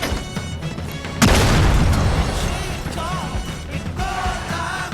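A grenade blast in the video game Gangstar IV hits suddenly and loudly, then leaves a long rumbling, crackling tail with game music playing under it.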